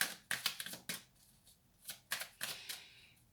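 Tarot cards being drawn and laid out one after another for a six-card spread, giving a series of crisp, close slapping and sliding card sounds in uneven bursts with short pauses between.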